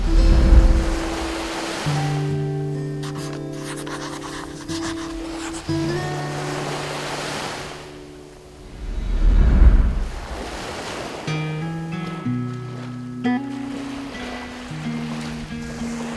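Sea waves and a cool sea breeze on the coast of Seo-gu, Busan, with surf washing in as a soft broadband rush that swells near the middle, heard beneath steady music.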